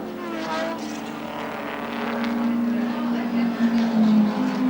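A 1980 Group C touring race car at the Surfers Paradise 300 drones steadily along the circuit, its engine note rising in pitch as it accelerates, loud and fairly close throughout.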